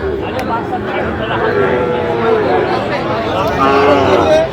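A Sahiwal bull calf lows at a busy cattle market in Dhaka, its drawn-out moos rising above a steady crowd chatter as people talk nearby.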